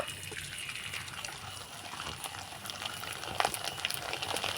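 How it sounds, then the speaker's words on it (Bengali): Papad frying in hot oil in a wok on a stove, a soft, steady bubbling sizzle with light crackles, close and fairly quiet, with no one speaking. "পাঁপড়টা আমি তেলের মধ্যে ভেজে নেব"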